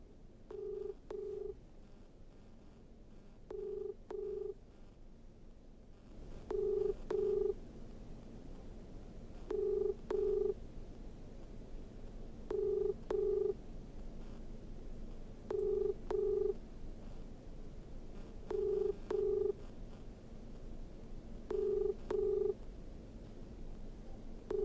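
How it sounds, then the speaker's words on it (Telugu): An outgoing phone call rings on the line: a steady repeating ringback tone of double pulses about every three seconds, clear and unanswered over low background hiss. "నేను ఒకసారి మళ్ళీ మీకు ఇప్పుడే కాల్ చేస్తున్నాను"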